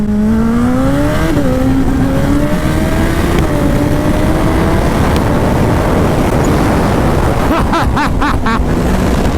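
A 300 hp turbocharged Hayabusa motorcycle accelerating hard through the gears, a loud, close, continuous roar with rising engine pitch, a brief dip at a shift, and heavy wind buffeting throughout.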